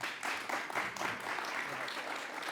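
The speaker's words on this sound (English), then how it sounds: "Please give him a big round of applause." Audience applause in a conference hall after a speaker is introduced to talk about kangaroo protection, a steady wash of clapping sustained at moderate level throughout.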